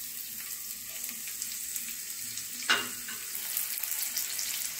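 Sliced onion with mustard seeds and cumin sautéing in hot oil for kande pohe, a continuous soft sizzle with one brief clink of a stirring spoon, close and steady, no voices.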